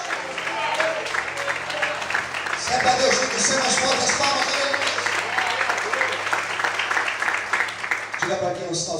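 A church congregation claps and applauds over sustained music and a talking voice, with the clapping swelling in the middle and continuing to the end.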